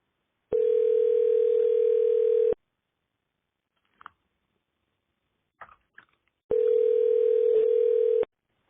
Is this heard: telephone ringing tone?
yes